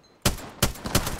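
Three sharp, loud gunshots burst out in the video game Apex Legends, roughly a third of a second apart, each followed by a short tail, while the player shoots at a Pathfinder.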